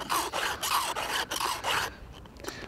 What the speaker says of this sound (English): You just hold the chainsaw between your legs whilst you file away.